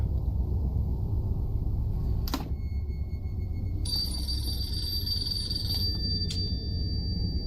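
A telephone ringing inside a movie prop box, a thin electronic ring that starts partway through over a steady low rumble, with sharp clicks before it, distant and no voices.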